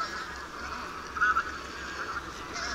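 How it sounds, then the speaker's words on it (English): Flock of wild geese honking in a valley in early spring, a few faint calls rising briefly over a soft steady outdoor background. "flocks of wild geese have arrived from the warmer parts of Europe"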